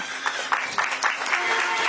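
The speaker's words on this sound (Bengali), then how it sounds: "সবাই আর হাততালি দেন।" A small audience claps at the grand opening of an office for a web solutions company. The applause comes in quick uneven bursts, moderately loud and close, lasting only a moment.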